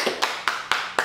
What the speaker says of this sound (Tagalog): Uy, palakpak!